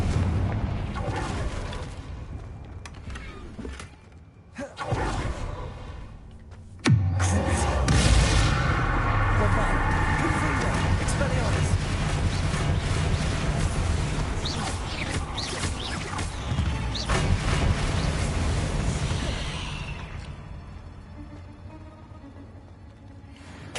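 A Confringo spell bursts into a fiery explosion in Hogwarts Legacy, one sudden loud blast followed by a long roaring, crackling rumble that slowly fades, with a softer crackle a few seconds earlier.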